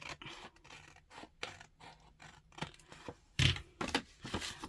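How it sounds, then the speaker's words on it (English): Scissors snip through paper while a holiday notebook is made, a run of close, dry scratchy cuts with short pauses, louder toward the end. "Let me get my scissors and we'll just cut down here."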